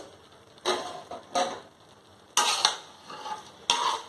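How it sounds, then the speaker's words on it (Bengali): Egg biryani with potatoes, eggs and fried vegetables is stirred in a pot, heard as four separate scraping, rustling strokes of a spoon through the food, close and moderately loud, with quiet gaps between them. "লাড়া দিয়ে দিব।"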